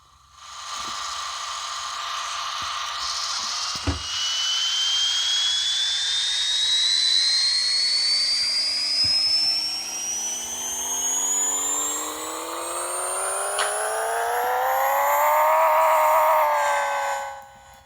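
A Honda CRX engine in the Pixel Car Racer game revs on a dyno, a loud synthetic whine climbing steadily in pitch over many seconds with a brief dip, ending in a high sustained scream before cutting off.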